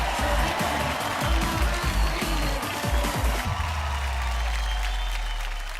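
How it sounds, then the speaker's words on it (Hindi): Loud audience applause greets tennis star Sania Mirza and actress Parineeti on a studio set, a dense burst of clapping over low rumbling music-like tones that thins after a few seconds into lingering crowd noise. "सानिया मिर्जा, परिणीति के लिए जोरदार तालियां।"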